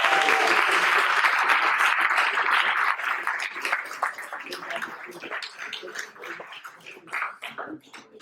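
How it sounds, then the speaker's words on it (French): Loud, dense applause from a live audience at an anniversary show, steady at first and then thinning and fading over the last few seconds, with no talking. "Faites un tonnerre d'applaudissements à Yoann."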